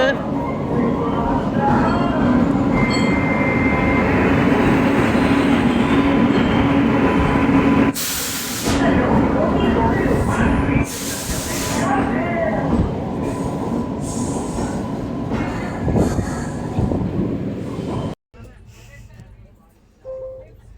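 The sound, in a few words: train arriving at station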